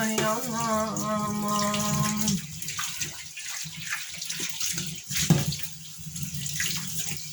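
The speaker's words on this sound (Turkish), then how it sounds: "Tamam bunu yıkadım. Sabunladım. Ilık suyla." Lukewarm tap water runs while something is washed with soap, starting with a tonal hum of the flowing tap and then turning into uneven splashing and dribbling close by.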